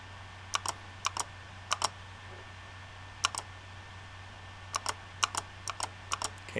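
Keystrokes on a computer keyboard come in short bursts of two or three quick clicks separated by pauses, close and clear over a steady low hum, with no talking.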